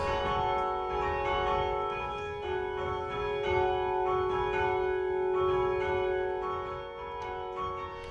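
Church tower bells ring steadily with sustained, overlapping tones and repeated strikes, loud and close, continuing throughout without speech.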